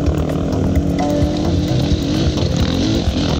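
A Suzuki DRZ400 dirt bike climbing a steep enduro hill, its single-cylinder engine snarling loud and close at high revs with a continuous buzzing roar and small throttle fluctuations.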